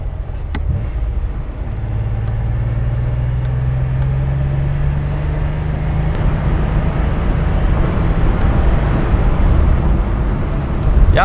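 Porsche 911 3.2 litre cabriolet driving on the road, a steady, loud engine drone with a rising tone as it accelerates, heard from inside the car with wind noise.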